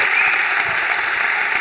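A crowd at a live book talk applauds the guest author, brief, dense and loud clapping that holds steady throughout with no talk over it.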